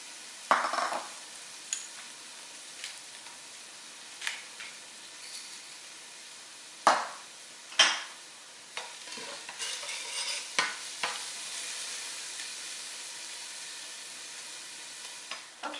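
Herbs, garlic and onion sautéing in a pot for crab cioppino, a soft continuous sizzle broken by repeated sharp clinks and scrapes of stirring, close and fairly quiet.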